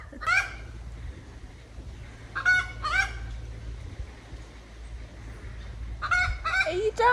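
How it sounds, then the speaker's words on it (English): Hens squawk and honk in loud bursts near the start, mid-clip and again near the end, with quieter stretches of background noise between the calls. "these hens are having like a little field day"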